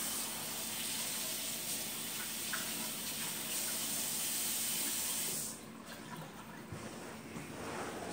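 Pork sizzles in a pan while Louisiana-style white beans are cooked at home, a steady bright hiss of frying fat that drops a little in intensity partway through.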